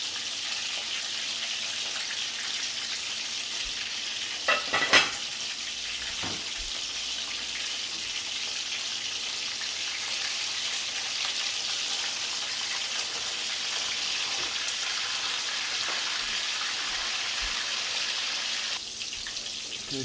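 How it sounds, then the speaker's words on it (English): Fish browning in hot oil in a pot for Jamaican brown stew fish, a steady broadband sizzle running throughout with a brief louder crackle and clatter near the start, no talking. "So I put the fish in there, I'll give them some color first."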